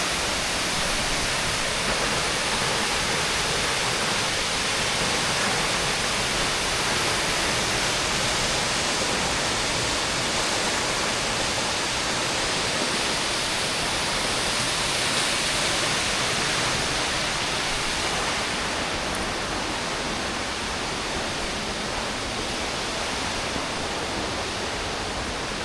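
Massive roaring water at the base of Victoria Falls, a steady dense broadband rush that stays loud and unbroken throughout, with no voices.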